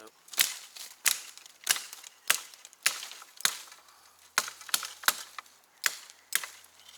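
A dry, straight lantana wood stick meant for a fire bow is snapped in the bush, giving a run of sharp, close cracks and clicks spaced roughly every half second.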